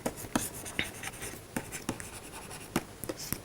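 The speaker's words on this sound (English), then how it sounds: "So let me write the theorem." Writing a mathematical theorem on a board: irregular soft scratches and taps of strokes spaced through a quiet room, close, with no talking.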